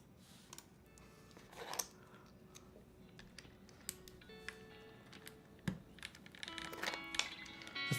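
Mechanical keyboard switches are pressed one by one during a custom keyboard build, giving scattered close clicks and taps at an uneven pace with a low background hum and no voices.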